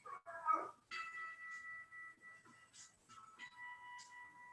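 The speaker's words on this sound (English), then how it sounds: "If you hear my whiny dog, I'm sorry." A dog whines indoors in a series of high, drawn-out whimpers and short yips, moderately close, with quiet pauses between the cries.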